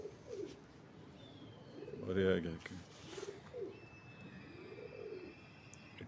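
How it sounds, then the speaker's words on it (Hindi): A female pigeon held in the hand gives soft, low cooing calls in a few separate bursts, close by, while a voice speaks briefly over it. "कबूतरी ना बड़ा बुरा मना रही है हाथ में पकड़ के।"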